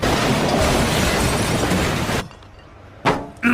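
A loud, sustained crashing clatter of toy trains colliding, then a sudden drop to near quiet broken by two brief bumps.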